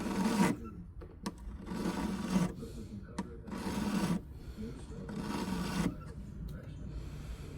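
A roulette wheel part is filed down by hand in a run of rhythmic rasping strokes, about five longer scrapes with small clicks between them, close and fairly quiet.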